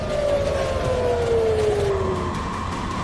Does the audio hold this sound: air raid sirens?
yes